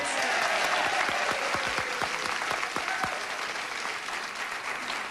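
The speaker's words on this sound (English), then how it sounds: "give a nice round of applause" Studio audience applause on the Card Sharks game show, loud sustained clapping from a large crowd with a few distinct near claps, holding steady then easing slightly.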